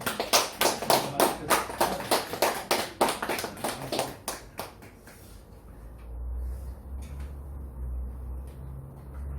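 Congregation in a church applauding together, a burst of dense rhythmic clapping for about five seconds that fades into quiet room tone.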